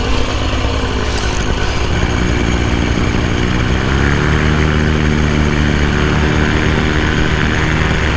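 A paramotor engine runs loud and steady through a launch, its droning propeller buzz shifting pitch slightly as power changes, with no talk over it.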